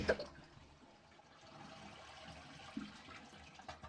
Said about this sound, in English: with the water all the way shut off, what we do now is we go back up to the top and flush